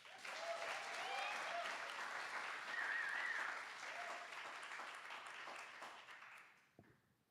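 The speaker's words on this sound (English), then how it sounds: "A wild round of applause for Be Weird" Enthusiastic audience applause for a poet at a poetry slam festival, a sustained roar of clapping with faint cheers that holds steady for several seconds before fading out near the end.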